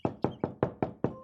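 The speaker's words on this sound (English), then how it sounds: "They went and knocked at the door." Six crisp, evenly spaced knocks rap on the door of a little straw-built cottage, close and clear with no voices.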